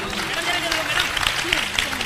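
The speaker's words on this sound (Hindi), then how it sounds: "तालियां बजा लो बच्चे के लिए" Brief applause for a child rises from an audience at a spiritual gathering, clapping underneath a person talking.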